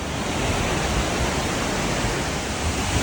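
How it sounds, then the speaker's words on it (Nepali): Water from the Lauke Jharana waterfall in Nuwakot, Nepal, falls from a large rock, producing a steady, dense roar like broadband rushing noise with no pauses. "ठुलो चट्टानबाट तलतिर खसिरहेको पानी, वरिपरिको हरियाली र झरनाको आवाजले यहाँको वातावरण नै अर्कै बनाइदिन्छ"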